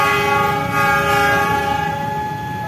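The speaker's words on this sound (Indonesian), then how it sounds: "Sekarang pagi ini kita akan hunting uji beban lokomotif" A CC206 diesel locomotive on a test run at a railway works, its horn sounding a loud, steady, sustained chord over a rumbling engine throughout, close by and with no voices.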